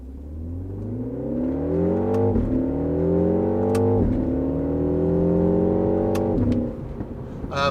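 MINI Countryman John Cooper Works on the road, its engine climbing steadily through the gears with clear upshift dips between rising pulls, loud and close from inside the cabin with no talking.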